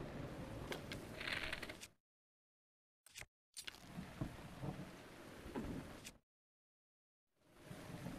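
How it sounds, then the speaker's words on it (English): Steady rain with rumbling thunder in Zelda: Breath of the Wild, a loud continuous storm that cuts out abruptly twice, with a brief burst between, then fades back in. "it's raining"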